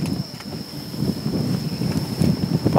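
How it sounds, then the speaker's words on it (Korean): Wind and rain at the Mokgwa breakwater on Yokjido island: steady gusting wind buffeting the microphone with a rushing roar, constant and close. "비 오고, 바람 불고"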